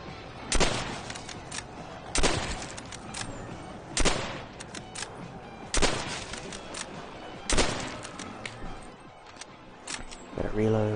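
Gunfire from Call of Duty: World at War zombies comes in five evenly spaced loud shots, each followed by a fading echo, with game sounds between them.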